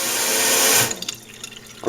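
Moen Adler kitchen faucet spraying water, a loud hissing rush that ends abruptly, followed by faint drips and small splashes and a final short burst of water.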